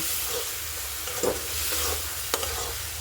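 Cumin and coriander powder frying in a pan for potol chingri, a steady close sizzle with a few sharp scrapes and clinks of stirring, no voices.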